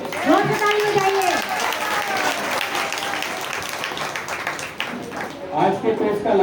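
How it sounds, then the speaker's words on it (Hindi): Sustained applause from an audience at a devotional talk, a steady wash of clapping lasting several seconds, with a voice heard over it at the start and end. "जोर से ताली बजाइए"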